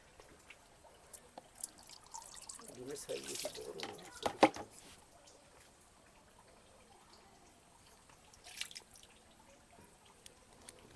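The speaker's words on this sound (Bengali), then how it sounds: "তো ডিমটা একটু ধুয়ে রেখে দিলাম" Hilsa fish roe rinsed under running tap water: a short burst of splashing and trickling with some drips, moderately close and fairly faint, surrounded by quiet stretches.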